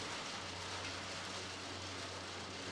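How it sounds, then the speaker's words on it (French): Torrential rain falling hard and constantly, a dense, loud, unbroken roar of drops that holds steady throughout with no voices over it. "une pluie torrentielle a commencé"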